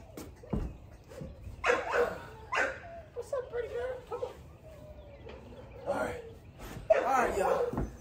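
Puppies from a litter give a string of short yips and barks, some whimpering, close by and uneven in rhythm, mixed with talking voices.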